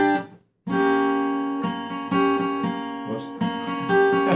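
Guitar chords from a song strummed close: after a short silence, a series of ringing chord changes in a steady, moderate rhythm, each chord sustaining clearly, with no talking over it.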